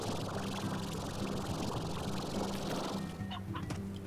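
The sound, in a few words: chicken clucking in the video game Slime Rancher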